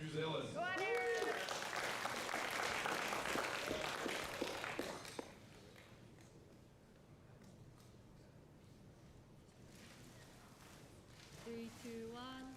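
Applause from the crowd at an Oceania classic powerlifting championship medal ceremony, with dense clapping for about five seconds under a voice at the start, then fading to quiet murmur before a voice returns.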